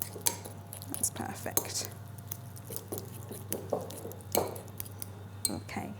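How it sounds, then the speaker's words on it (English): Raspberries mashed in a bowl, with a utensil clinking and tapping against the dish in irregular bursts over a low steady hum, and a voice speaking briefly. "you've got to mash your raspberries down"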